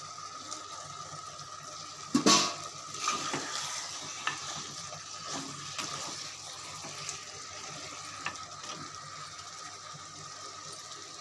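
Chicken with garam masala and curry masala being stirred and sautéed in a pan, soft sizzling with scraping spoon strokes and a sharp clatter early on, fairly quiet and without talk.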